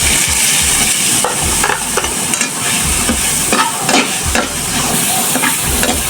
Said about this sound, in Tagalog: Kaya ang gagawin natin, gigisahin na natin.